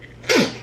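A single sharp sneeze bursts out close by, a brief loud hiss-like expulsion over a quiet room background.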